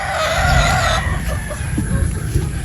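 Pullets and roosters ready for breeding, kept for a fiesta, with a loud nearby rooster crow at the start, then scattered clucks and scratchy fowl noises.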